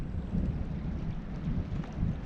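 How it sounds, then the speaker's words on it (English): Steady wind gusting across an exposed camping spot, a broad rumbling roar that buffets the microphone continuously with slight surges, no voices. "We've found a windy spot."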